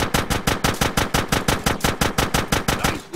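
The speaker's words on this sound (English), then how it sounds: "Shoot out the gate." Rapid automatic gunfire from a shootout in GTA San Andreas, with about sixteen sharp, evenly spaced loud shots in a steady burst and no talk.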